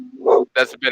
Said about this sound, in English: even though I'm getting barked at